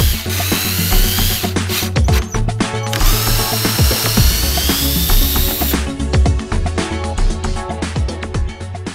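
A thread-forming screw is power-driven into a hole, giving a loud, continuous drill whine with rapid ratcheting clicks that surge and drop over several seconds.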